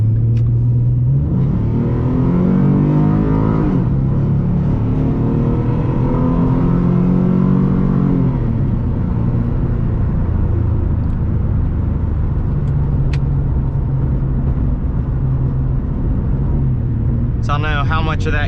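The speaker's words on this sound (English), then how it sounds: "I'll do a little pull here so you can see just how the engine sounds with these mounts." An S197 Mustang drag car's engine revs during a pull, a loud, continuous rumble whose pitch climbs and falls in rising sweeps, then settles into a steady drone, with a voice talking briefly over it.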